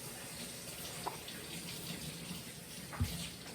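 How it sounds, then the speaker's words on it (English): Water running from a tap into a sink during hand washing in a home kitchen, a steady soft stream throughout with a couple of brief clunks, no talking. "So let me wash my hands off."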